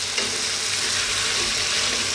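A pot of lamb stew simmering and bubbling with a steady, soft sizzle and occasional stirring, close and continuous.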